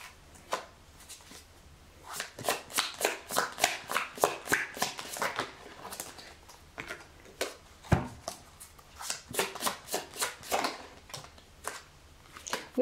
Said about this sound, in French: Je vais juste tirer 2-3 cartes du tarot